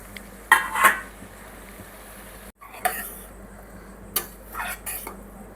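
A utensil stirs boda kakarakaya (spiny bitter gourd) curry in a pan, producing a few short scraping and clinking bursts against the metal over a quiet background.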